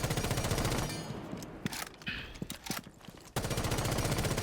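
Rapid bursts of gunfire from Rainbow Six Siege, loud and close, rattling in quick repeated strings with a short gap near the middle before the fire resumes.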